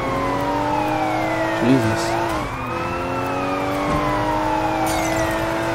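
Police car siren in the video game Sleeping Dogs, a loud wailing tone that sweeps up and down over engine noise, with a brief spoken exclamation partway through.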